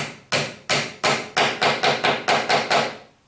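A wooden dowel being hammered into a drilled hole, ten sharp close strikes in a quickening rhythm, loud and alone without talk.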